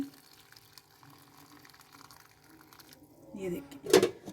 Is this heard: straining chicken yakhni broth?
yes